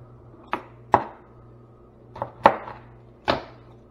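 Knife chopping and scraping on a cutting board while coring a jalapeno: five crisp, separate cuts in two loose groups, close and clear with nothing else over them.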